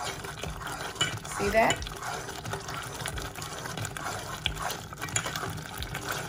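Onion juice and oil being stirred together in a container, a soft liquid swishing with a brief louder slosh early on, while a person speaks briefly.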